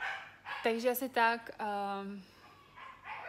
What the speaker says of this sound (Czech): Tak teď mi tady do toho štěká pes.